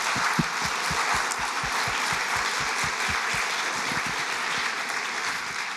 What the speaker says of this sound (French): Un grand applaudissement pour Julien Creuset.